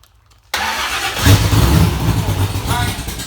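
A 1965 Ford Falcon race car engine cranks and catches after a brief silence, then runs loud and rough at close range, idling unevenly with a slight rev.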